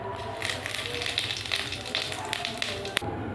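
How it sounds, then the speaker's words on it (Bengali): Cumin seeds hit hot oil left from frying tilapia fish and sizzle with a steady hiss and light crackle; a single sharp tap sounds near the end. "মাছ ভাজার তেলের উপর দিয়ে দেবো জিরে"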